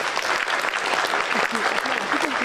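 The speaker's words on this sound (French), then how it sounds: "Merci de les applaudir fort." A film festival audience claps in sustained, dense applause that fills the whole moment, with faint voices and a few calls rising through it.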